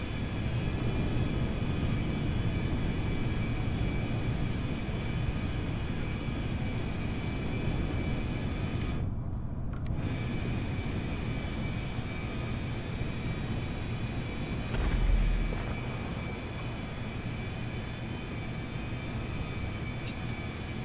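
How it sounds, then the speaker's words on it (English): An Air France airliner taxiing in a flight simulator gives a steady, droning jet-engine hum with a high whine, continuous and fairly loud throughout, with a brief dip and a soft thump partway through and no talk. "Holy cow, that Air France is taxiing fast."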